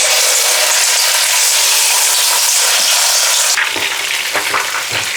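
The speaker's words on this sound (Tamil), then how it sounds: "எண்ணெய் சூடானோடனே 1 by 1 எடுத்து போட்டுற வேண்டியதுதான்." Oyster mushroom pieces fry in hot oil with a loud, dense, continuous sizzle, close and unbroken. Toward the end the crackle grows more textured as more pieces go in.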